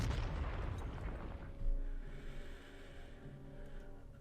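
Booming artillery fire from a KV-2 in the war game Panzer Corps rumbles low and heavy, with a thick blast at the start and another thud partway through as the sound slowly fades.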